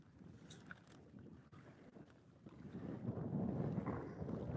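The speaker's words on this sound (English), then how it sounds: "The wind's been blowing like crazy." Strong wind gusts buffet the microphone on a catfish fishing outing by the water, a low rumbling roar that swells and grows louder toward the end, with no talking.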